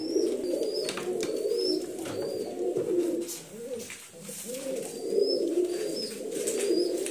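Pigeons cooing inside a single-rack cage, soft repeated rolling coos that swell and fade in waves, with a few faint higher chirps over them.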